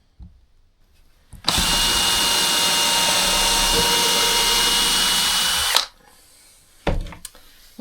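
A handheld power drill runs at full speed for about four seconds in one steady, loud, high whine, starting and stopping abruptly, while a homemade wooden toolbox is being built, with a few brief clicks and knocks afterward.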